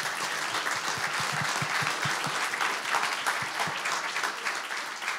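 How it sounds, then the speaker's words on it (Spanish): Audience applause at a wine tourism workshop, a dense steady clapping from a crowd that fills the whole stretch at even loudness, without any voices. "Queremos agradecer a Julio un aplauso"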